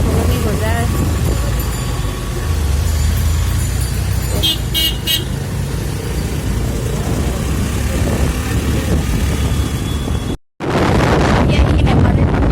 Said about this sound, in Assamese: আজি ইয়াতে বজাৰ, সেইকাৰণে ইমান ট্ৰাফিক জাম।